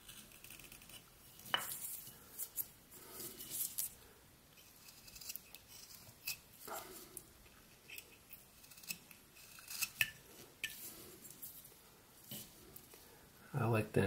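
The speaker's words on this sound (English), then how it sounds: "Let's do a little scooping cut on that side and a little scooping cut on this side" A knife makes small scooping cuts into wood while a wooden nose is whittled, producing faint scattered scraping and clicking strokes at close range, with quiet talking throughout.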